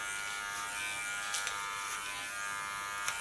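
An electric hair clipper buzzes steadily and close up while cutting ultra-short hair, with faint snips of hair and comb contact over the continuous drone.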